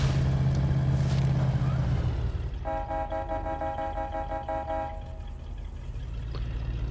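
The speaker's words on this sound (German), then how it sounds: "Dreimal Hupen und Auto hinter dir." Car horn in the State of Decay video game, sounding as a sustained harmonic toot that holds for about two seconds over engine rumble. Blasts run together rather than clearly separating into three.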